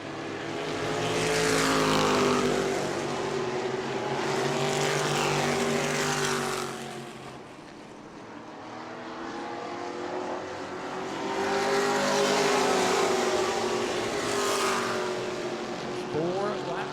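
Race cars roar past on a short oval track at a family fun night event in New Smyrna, engines swelling and fading in two passes, with a commentator talking over the noise.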